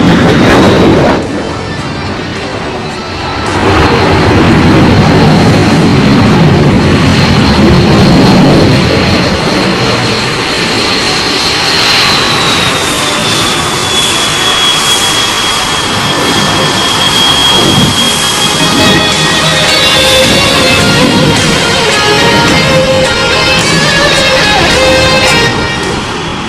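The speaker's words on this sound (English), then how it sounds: "The Sukhoi 30 MKI is an all-weather air dominance fighter aircraft right in front of you" A Sukhoi 30 MKI fighter jet thunders past at an air show, its loud jet roar swelling in and holding strong with a whining tone that slowly sweeps down in pitch as it manoeuvres.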